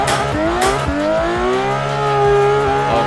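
A VDC F22 race car is driven in Assetto Corsa, its engine revving up and down through rapid gear shifts with rising and falling pitch and brief tire squeal, loud and close, with no talk.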